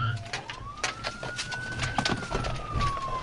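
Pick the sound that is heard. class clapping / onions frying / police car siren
police car siren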